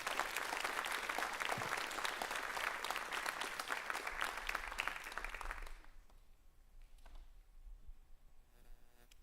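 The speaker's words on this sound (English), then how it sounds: "If you will, give these students a round of applause." Graduation ceremony audience applauding students, dense crowd clapping that holds for about six seconds and then stops abruptly, leaving a quiet room with a few stray claps and faint sounds.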